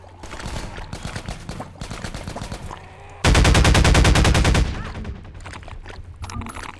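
Rapid gunfire in Half-Life 2 Episode 2: bursts of automatic shots rattle through the first half, then a loud, dense volley erupts for over a second before tapering into scattered distant shots.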